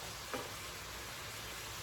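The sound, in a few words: food sizzling in a pan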